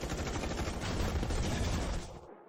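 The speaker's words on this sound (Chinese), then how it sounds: "给我继续开火，把所有炮弹都给我打光" Sustained rapid gunfire and shelling fill a dramatic battle scene, a dense rattling barrage that stays loud and continuous before cutting off abruptly at the end.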